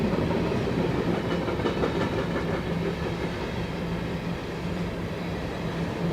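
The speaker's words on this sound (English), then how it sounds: "I have not had a train about 20 feet behind" A train rolling past about twenty feet behind the backstop at a high school baseball field, a loud, steady rumble with a rhythmic clickety-clack of wheels on rails throughout.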